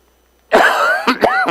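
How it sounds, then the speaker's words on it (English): Someone speaking to an audience breaks into a harsh dry cough, a sustained rasping burst followed by two or three shorter hacking coughs, close and loud in an otherwise quiet room. "I had a dry cough."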